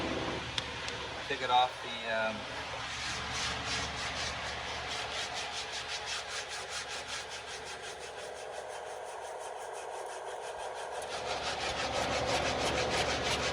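Coarse 36-grit sticky-back sandpaper rubs steadily across a fiberglass panel, a continuous, close, rasping scrape that runs for the whole stretch. A brief voice is heard near the start.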